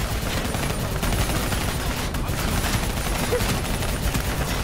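Sustained heavy gunfire in Call of Duty: Black Ops III, a dense wall of rapid shots and battle noise rolling on without pause throughout, loud and continuous with no clear gaps.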